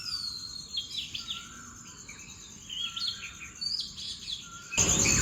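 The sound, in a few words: birds chirping outdoors in the morning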